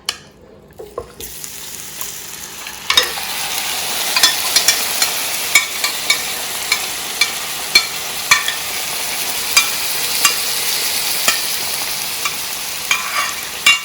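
Marinated chicken frying in about a quarter cup of oil, a loud continuous sizzle with regular sharp scrapes and taps of a spoon stirring the pan, no voices.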